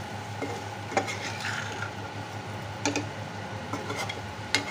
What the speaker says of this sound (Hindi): तो अच्छी तरह से हम पहले इसे मिक्स कर लेते हैं।